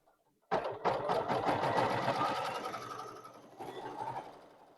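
An embroidery machine stitches a luggage tag, its needle running in a fast, steady mechanical chatter that stays close and continuous, with no talking over it.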